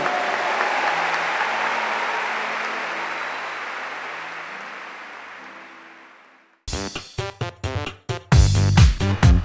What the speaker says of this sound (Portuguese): Aplauda o nosso Deus misericordioso.